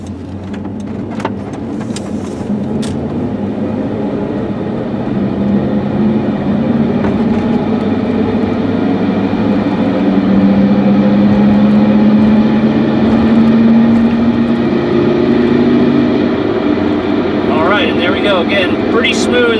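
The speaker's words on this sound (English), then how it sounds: "Big old pickup truck." A 1998 Chevy K1500 4x4 pickup truck's engine hums steadily and climbs in pitch as it speeds up, heard from inside with a voice talking over it.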